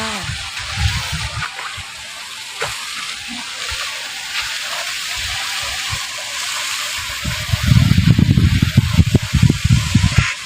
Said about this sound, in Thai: ตรงกลางก็จะเป็นน้ำตกค่ะ